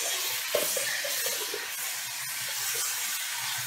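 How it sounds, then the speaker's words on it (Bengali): Chopped ash gourd frying in a pan for a vegetarian chickpea dish, a steady soft hiss of sizzling oil throughout with a few faint clinks, no talking. "একটু ভাজা ভাজা করে নিলাম চাল কুমড়োটা।"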